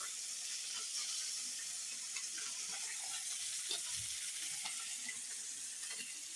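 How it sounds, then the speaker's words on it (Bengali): Faint, steady hissing sizzle of fish frying in a pan, with occasional soft clicks and a low thump, heard from close by. "এখন এক পাশ ভাজা হোক"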